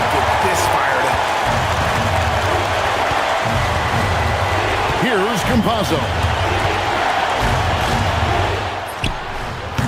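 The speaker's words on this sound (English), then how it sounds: "Yeah, you gotta love hearing a crowd get this fired up." A crowd roars in an eBasketball video game, with steady cheering and ball bounces throughout and a commentator talking over it.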